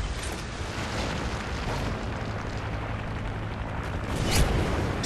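Sustained deep rumbling blast from a Predator missile strike in Call of Duty: Modern Warfare 3 multiplayer Domination on the Dome map, a continuous roar with a swell near the end, no talking.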